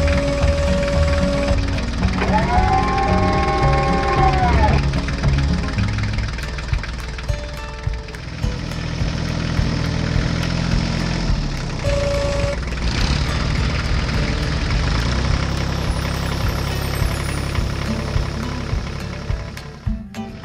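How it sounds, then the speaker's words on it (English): Two tractors, one fitted with a cyclop loader and one towing a large trailer, run their engines in a farmyard, giving a steady, loud, low rumbling drone with knocking tones that continues throughout without talk. "Both tractors, ready for action, set off from the yard towards the forest, driving evenly one behind the other."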